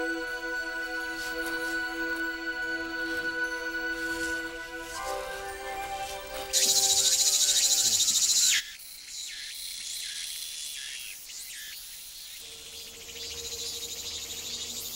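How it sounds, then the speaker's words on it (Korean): A hairy cicada sings in a steady, shrill drone, swelling into a loud, piercing burst midway before settling back to a softer buzz. "그 짧은 일생 동안 매미는 힘차게 울음소리를 낸다"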